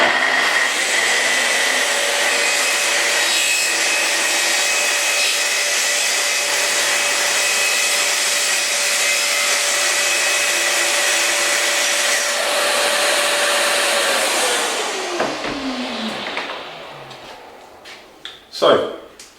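A Festool TS55 plunge saw trims its splinter guard with dust extraction attached, a loud steady whine running continuously before the motor winds down, followed by a few sharp clicks.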